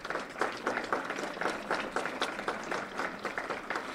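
An audience at an evening advocacy awards program applauds with steady, dense clapping that fills the room evenly throughout.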